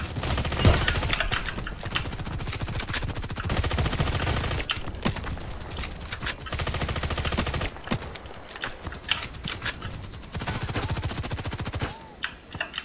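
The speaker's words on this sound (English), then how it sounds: "keep hearing shots" Rapid bursts of gunfire fill the Contract Wars gameplay with a Kedr SMG, with dense, loud automatic shots rattling almost continuously and only brief pauses between volleys.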